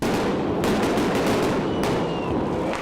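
Police firing shots into the air to disperse a street protest that includes football and ice hockey fans, with firecrackers and tear gas shells also in use; dense crackling bursts ring out over a loud, continuous crowd roar.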